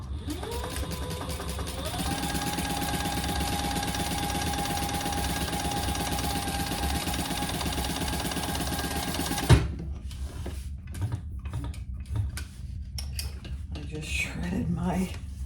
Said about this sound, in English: we're going to sew those two together at the seam allowance in the pattern